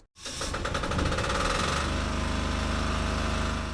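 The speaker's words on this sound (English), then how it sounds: "we got this generator up and running and feeding energy back into the boat" An air-cooled 5 kW generator fitted to a boat with a dry stack exhaust runs at a steady, loud, close mechanical drone, with a brief gap at the very start and no voices.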